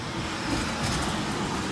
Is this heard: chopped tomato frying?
no